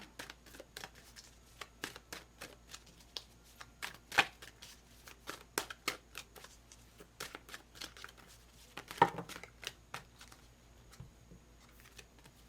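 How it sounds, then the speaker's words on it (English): A deck of tarot cards is shuffled repeatedly, giving quick riffling flutters and soft slaps in an irregular, close rhythm, with no voices heard. "I'm going to keep shuffling"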